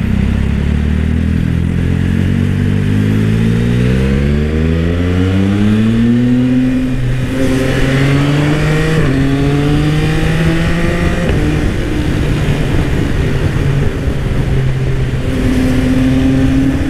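Yamaha XSR900 motorcycle fitted with an Orion exhaust, ridden at night through a tunnel-like underpass: loud, close engine note climbing through several gears in rising sweeps, with a rumbling, booming exhaust and no talking.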